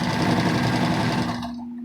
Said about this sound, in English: So a back stitch, and I just do a 1/4 inch seam going by the edge of my foot.